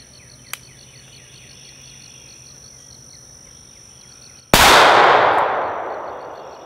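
A single M17 pistol shot at an outdoor range cracks loudly and is followed by a bright, ringing clang from a big steel target about ten yards away that slowly fades, after a quieter sharp tick earlier over steady insect buzz.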